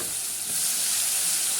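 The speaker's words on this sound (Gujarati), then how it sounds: "હવે નાખીશું ટામેટાં" Tomatoes hit a hot pan of oil for sabudana khichdi, a loud, close, continuous hissing sizzle with no voices.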